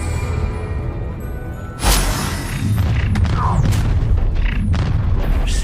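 A Confringo blasting spell from Hogwarts Legacy goes off as a single heavy, booming explosion. It hits abruptly over the constant rumble of battle and leaves a sustained noisy tail.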